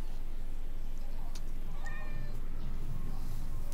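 A cat meows close by over a constant low background rumble from a Demon's Souls game session, with one clear rising call in the middle of the clip.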